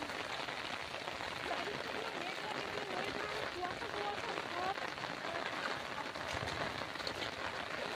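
Heavy rain pours down hard in a continuous, dense roar that fills every moment, steady and loud near a canal in the Sundarbans during a thunderstorm.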